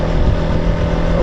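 A motorcycle riding along the Swat motorway gives a continuous, loud engine drone mixed with wind rumble, heard close up from the rider's position.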